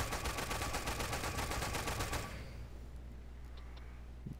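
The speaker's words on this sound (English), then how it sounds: "These shells, they fire a lot faster." Rapid, evenly spaced gunfire from shell-firing guns in the video game Toy Soldiers, a steady rattling burst lasting about two seconds before cutting to a low background rumble, with no talking.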